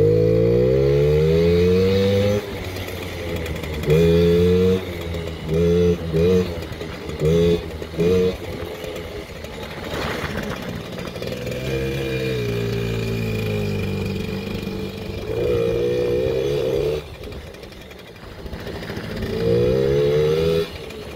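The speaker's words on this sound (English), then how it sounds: "Tiny little motorcycle." A 2001–2009 Suzuki JR 50 mini motorcycle, rebuilt, runs in first gear, its small engine buzzing and repeatedly revving up and dropping back in short bursts, close by, with no one talking over it.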